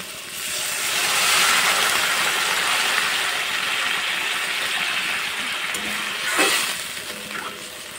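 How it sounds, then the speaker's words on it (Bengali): Broth for a fish curry is poured into a pan, a rushing, splashing gush that swells and then fades, with a brief louder splash near the end. "এবার দিয়ে দেবো পরিমাণ মতো ঝোল।"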